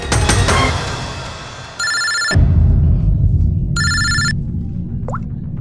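A telephone ringing indoors, two separate electronic ring bursts with a pause between them, loud and close over a low room background.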